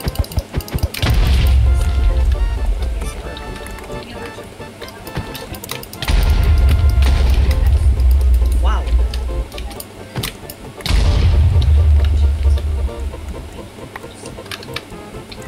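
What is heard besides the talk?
creeper explosions in a video game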